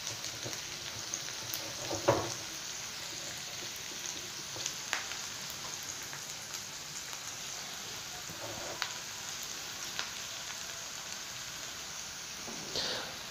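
Onion, garlic and ginger fry with spices in a pan, giving a faint, steady sizzle broken by a few soft stirring clicks and scrapes, with no talk.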